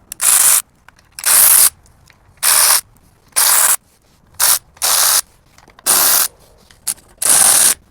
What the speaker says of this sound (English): I'm gonna drop the bolts out for the oil pan